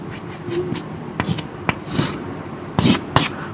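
Chalk or marker strokes scratch across a board as a maths lecturer writes a limits expression, a series of short close scrapes and taps with a voice speaking intermittently.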